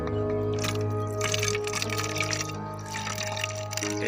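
Water mixed with milk is poured from a mug into a plastic watering can, a soft trickling splash running under steady background music, faint and continuous.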